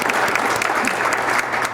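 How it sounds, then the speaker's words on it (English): Sustained applause from an audience, steady dense clapping filling the whole stretch at a fairly loud level. "Let's give them a round of applause."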